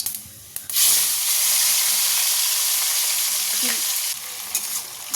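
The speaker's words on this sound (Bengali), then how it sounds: "এই তেলের মধ্যেই ফোড়নের মধ্যেই চিংড়ি মাছটা ভেজে নেবো" Shrimp sizzle loudly in hot oil with tempering spices, a steady frying hiss after a brief clatter, close and continuous with occasional stirring scrapes.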